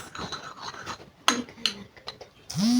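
A spoon scrapes and clinks against a bowl while mixing a homemade day and night face cream, giving irregular light scraping strokes with sharper taps and a louder rub at the end.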